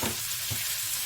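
Squash cooks in a hot pan, a brief, even crackling sizzle close by, with a soft stirring tap in the middle.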